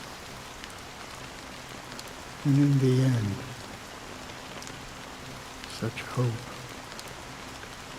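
Steady rain hisses throughout a scene in the video game Honkai: Star Rail, soft and even, while a voice speaks over it for a few seconds.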